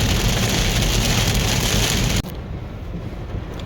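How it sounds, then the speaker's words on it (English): Heavy rain pours down at night during a storm as a dense, loud, continuous roar. Partway through, the sound drops abruptly to a slightly softer, duller downpour. "It is dark here and raining heavily."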